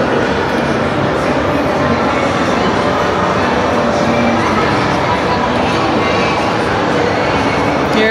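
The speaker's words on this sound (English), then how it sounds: "Here it comes. Jeffrey's Express." A miniature Toys R Us ride train rumbles steadily closer inside the American Dream Mall, a constant loud drone over a bustling, crowded background with no clear breaks.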